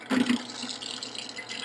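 Water from a tap runs briefly over a Gram-stained microscope slide to rinse it, a short close splash and steady trickle in a quiet lab.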